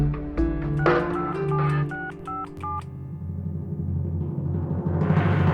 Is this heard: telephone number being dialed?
yes